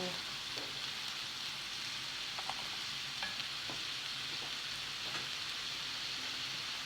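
Onions fry with garlic, spices and salt in a pan, giving a constant soft hiss and crackle at moderate level, with occasional faint stirring taps and no voices.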